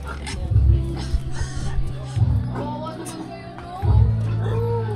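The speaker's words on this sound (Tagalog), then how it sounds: "May baboy din dito" Several low grunting oinks from a pig, coming in short bursts, mixed with other animal noises and background voices.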